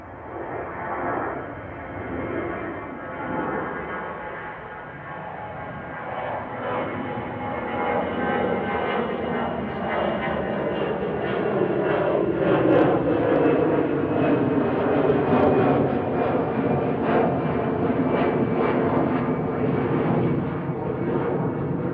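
A Ryanair jet operated by Lauda Europe departs Manchester Airport, its engine roar building steadily and staying loud and close for the whole stretch, with no talk over it.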